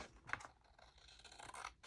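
Scissors snip through a paper file folder, cutting a side at an angle, with a few quiet, crisp cuts and scraping strokes heard close up.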